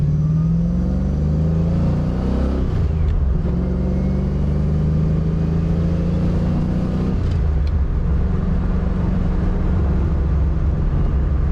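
A 1993 Fox Body Mustang engine drones loudly from inside the cabin while driving, a continuous low rumble that rises and falls with revving and shifting, with no talk over it.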